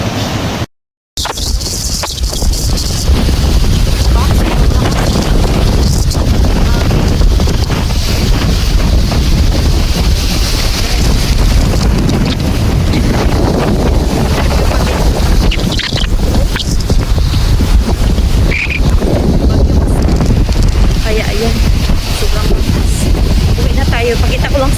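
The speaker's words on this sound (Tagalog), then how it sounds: "Para makita nyo gaano kalakas yung hangin." Strong wind buffets the microphone in a constant roar for the whole clip at a seaside campsite in Australia, with the low wash of the sea blended in underneath and no clear speech.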